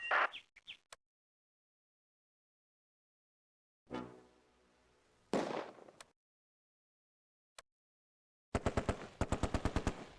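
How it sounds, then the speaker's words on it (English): A Vickers machine gun firing in the war game Close Combat, with short sharp bursts separated by silences, ending in a loud rapid rattle of repeated shots, near and crisp. "The Vickers opens up."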